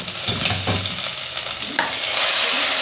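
Garlic, cumin and ginger fry in hot oil in a pot, a loud steady sizzle with crackling bursts and a few stirring scrapes, heard alone without voices.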